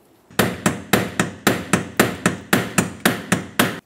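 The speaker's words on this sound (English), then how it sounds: "continue on with a small pry bar and a hammer and just give it a couple loving bonks counterclockwise" A hammer striking a small pry bar to turn a fuel pump lock ring counterclockwise on a Dodge Ram 2500, giving about a dozen close, sharp metallic taps at an even rhythm with no talking.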